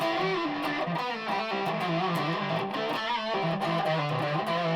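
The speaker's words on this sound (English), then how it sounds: "It's sort of distortion, kind of going into fuzz type thing." Electric guitar through a heavy distortion-to-fuzz pedal, a sustained buzzing, fuzzy tone with chords shifting steadily, loud and continuous.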